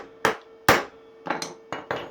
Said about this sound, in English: So you take a center punch, put it in the hole, and just give it a whack with a ball peen hammer.